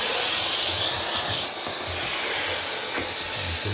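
A Meco Eleverde 4-in-1 vacuum cleaner runs at full power with a small crevice nozzle and brush attached, giving a steady close whine and rushing airflow that shifts slightly as the tool moves.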